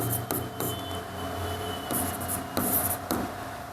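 A pen scratches across paper while a triangle diagram is labelled during a Class 9 geometry lesson, with close, steady strokes broken by short pauses and lifts.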